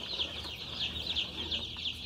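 Tiny baby chicks cheep continuously in a shed, a dense, steady chorus of high chirps that stays fairly near and even in level throughout.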